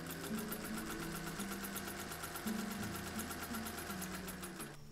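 A sewing machine stitches down the seam allowances on the side seams of a bucket hat brim, a steady close-up whir running the full length with slight changes in pitch.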